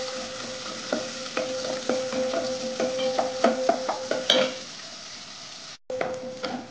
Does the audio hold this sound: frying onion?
yes